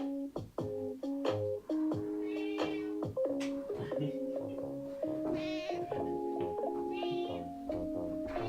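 A cat meows again and again at close range, with loud, drawn-out, insistent cries that come in a broken rhythm over several seconds.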